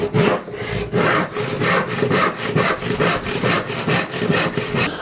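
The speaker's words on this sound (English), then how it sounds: "I'll start with the saw." A hand saw cuts wood for a Mission/Shaker side table, with steady rhythmic push-pull strokes, close and loud, about four strokes per second with no talking.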